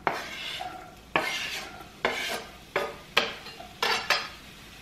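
Onion tipped into olive oil heated over medium in a pan, with a series of about six distinct scraping, clattering stirs that each fade into a soft sizzle, all close up and without talk.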